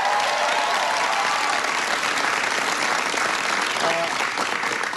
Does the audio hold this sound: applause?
yes